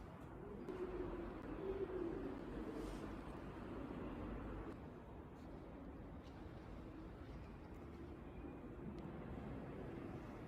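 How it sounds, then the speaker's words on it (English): Pigeons coo softly and repeatedly in a near-empty, closed-down shopping mall with only a shop and a florist open, a steady hollow ambience running beneath the birds. "and then it's just pigeons"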